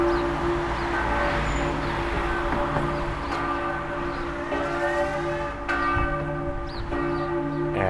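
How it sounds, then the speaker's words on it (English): A church bell in Sacile, Italy, tolls in steady, ringing strokes, loud and close, each strike's hum lingering and overlapping the next, with no voices over it. "Ask not for whom the bell tolls."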